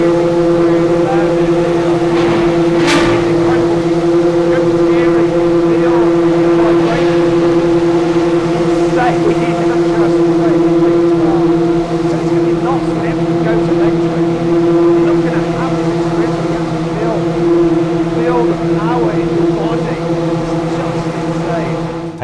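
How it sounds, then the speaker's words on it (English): Pagani V12 supercar engines start up in a pit garage, idling loudly with a steady, droning hum and a sharp burst near the start, running continuously and close by. "I heard the unmistakable noise of some Paganis starting up"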